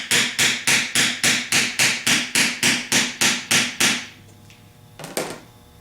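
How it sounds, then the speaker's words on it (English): A 3/4 socket is hammered down onto an alternator part: about twelve sharp, evenly spaced metallic taps in quick rhythm, then a pause and one or two softer knocks near the end. "get your 3/4 socket and finish tapping it down on there"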